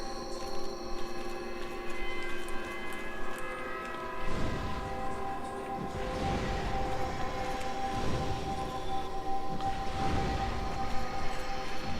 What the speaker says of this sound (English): right there is where the siren is